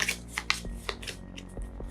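A deck of cards for the Master of Wills card game is shuffled by hand close up, giving a run of quick riffling and flicking bursts with short papery snaps, and no voices.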